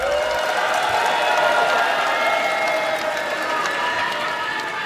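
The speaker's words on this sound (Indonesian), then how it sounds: "Saatnya memberikan tepuk tangan untuk seluruh pasangan calon." Audience applause for the candidate pairs at the first East Java 2024 gubernatorial election debate, steady broadband clapping from a hall crowd sustained evenly throughout without voices.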